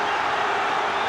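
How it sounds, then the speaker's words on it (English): Stadium crowd at a football play-off final between Cardiff City and QPR, a steady dense roar of many voices filling the whole short stretch, with no single voice standing out. "listen to the crowd"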